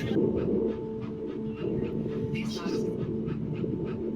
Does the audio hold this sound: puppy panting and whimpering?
yes